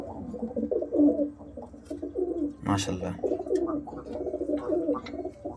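Teddy pigeons coo in low, rolling repeated calls, close by, with a short flutter midway and someone speaking briefly over them.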